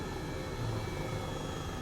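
A helicopter in Flight Simulator 2020 drones with a steady, dense engine and rotor hum, loud and continuous without change.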